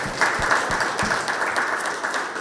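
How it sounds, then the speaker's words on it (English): Audience at a chess educator award ceremony applauding a national master, steady sustained clapping from a sizable crowd in a hall, with a few louder nearby claps standing out at the start. "Another round of applause to National Master Ben Johnson."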